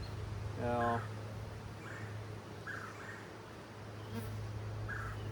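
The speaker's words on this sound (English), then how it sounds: "There's lots of bees on it" Honey bees buzz and drone close by on a hive frame in a steady hum, with a voice speaking briefly over them.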